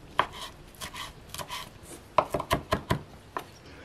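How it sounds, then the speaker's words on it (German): Fresh mint being finely chopped with a knife on a board, a series of crisp close taps and short rocking strokes, quick uneven clusters with a rapid run of chops near the end. "Minze fein hacken"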